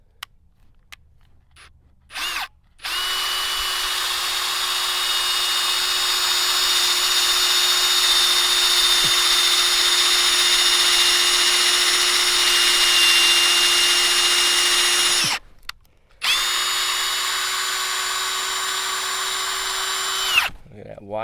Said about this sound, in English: So again, we're going to drill